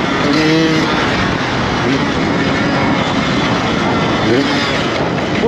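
A modified 125cc motorcycle accelerates on a track, heard as a loud, constant engine drone mixed with heavy wind rush, with a rider talking over it.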